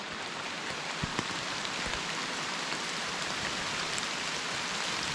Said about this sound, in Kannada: ಜಿಟಿ ಜಿಟಿ ಮಳೆ